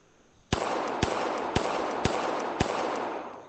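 Five evenly spaced pistol shots ring out in the VR shooting game ACE VR, each a sharp crack at a steady, unhurried pace over a constant loud hiss.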